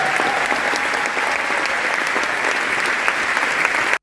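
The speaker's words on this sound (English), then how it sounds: "him receiving this 6-minute standing ovation from the" Loud, dense applause from a large audience giving a standing ovation at the Venice Film Festival, steady and unbroken throughout with crowd noise mixed in.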